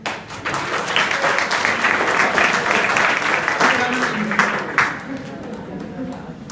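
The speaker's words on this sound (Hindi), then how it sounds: "ये जितने लोगों के लिए तो ताली बजा लें।" Students in a school hall break into a burst of clapping, many hands together fairly close, fading out near the end with voices mixed in.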